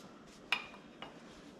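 A spoon clinks against a pot of homemade stew while it is stirred, giving one sharp metallic tap and a softer second knock in an otherwise quiet kitchen.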